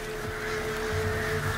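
Harpies calling in the video game The Witcher 3, a harsh, honking bird-like cry held for about a second and a half over a dense game soundscape.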